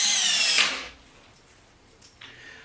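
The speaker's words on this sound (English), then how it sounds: "let's screw it down" A power drill drives screws to fasten a faceplate onto a wooden bowl blank for a lathe: a loud, close whirring burst at the start that winds down, followed by quieter, brief mechanical clicks and handling.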